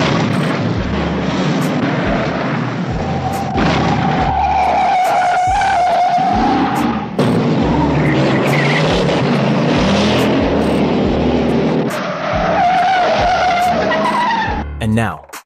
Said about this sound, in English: allowing the sound of roaring engines and squealing tires to take center stage